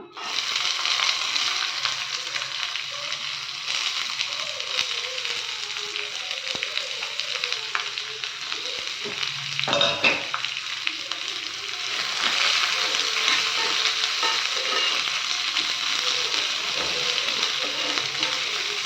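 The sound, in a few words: onion being sautéed in a pan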